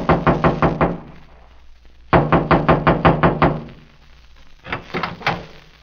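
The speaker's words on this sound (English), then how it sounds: "I walked through the clearing and knocked on the door." Knocking on a trailer door as a radio drama sound effect: three loud, close sets of rapid wooden raps, the first two of about six blows each, the last softer and shorter, with no voices.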